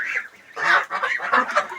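Poultry calling in a loose series of nasal honking cries, close and fairly loud, with no talk.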